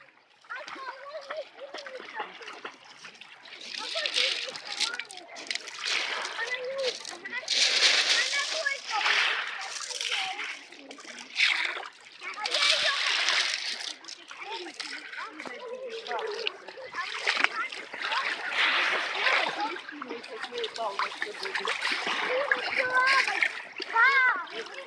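A child swims in the sea at Massandra beach in Yalta, Crimea, on an early morning, splashing and sloshing water in repeated bursts, with voices talking throughout.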